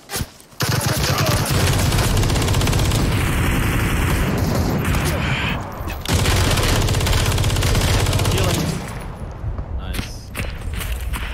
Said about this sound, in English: they're shooting a dead body now up there